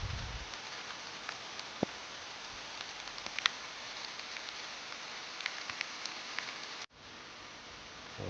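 Rain falls steadily during a boat trip out to lift fishing nets, a dense, close hiss of drops patters on surfaces throughout, then the wash cuts out abruptly near the end and returns slightly duller.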